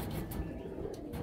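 Golden-bloodline racing pigeons, a pair, coo softly in a low repeated murmur close by, with faint chirpy bird sounds over a steady background.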